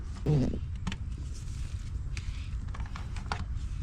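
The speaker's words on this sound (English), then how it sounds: "this is just a plastic, just you just pop it off" A plastic vent cover on a Maytag dryer snaps loose with a short creaky pop up close, followed by a few faint clicks and handling noises.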